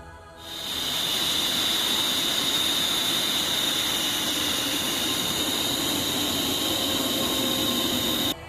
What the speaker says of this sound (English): 2 Su-34 fighter jets were deployed